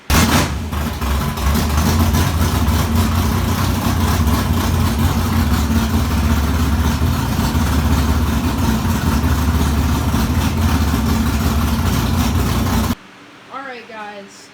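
Race car engine fired up and idling loud and close, a steady rumbling drone with slight revs, running for about thirteen seconds before cutting out abruptly to quiet.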